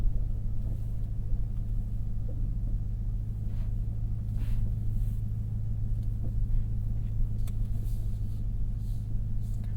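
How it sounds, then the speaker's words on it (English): Ford F-150 pickup creeping down a steep off-road hill under automatic descent control, giving a steady low engine and road rumble throughout with faint scattered clicks and knocks from the terrain. "the truck is going to modulate individual wheels, brakes, accelerator, everything to keep us nice and in control coming back down"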